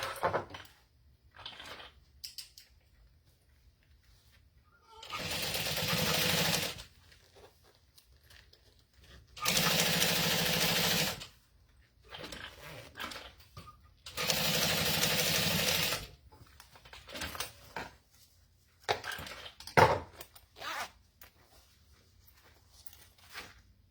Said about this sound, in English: press away and top stitch down just the back side of the bag